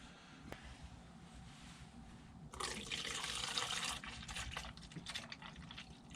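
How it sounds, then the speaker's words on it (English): Water poured steadily from a container into a cup set above a hose, a continuous splashing trickle that swells louder midway and then continues a little softer, close by with no talk. "pour some of that in that cup so it's above the hose"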